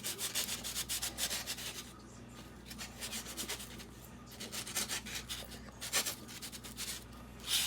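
A knife saws through pita bread in repeated rhythmic back-and-forth strokes, producing close, scratchy rasping bursts with short pauses between them.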